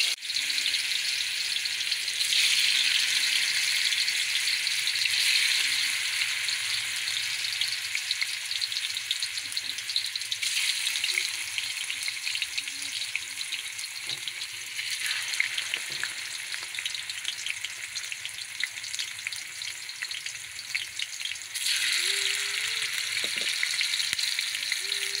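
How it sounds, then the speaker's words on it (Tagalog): Tofu pieces fry in hot oil in a pan, a continuous hissing sizzle at moderate volume that swells and settles a few times, with occasional faint clinks and no talk. "piprituhin po muna natin itong ating tokwa"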